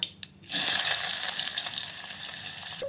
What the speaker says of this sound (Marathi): आता टाकणार आहे कांदा कट करून घेतलेला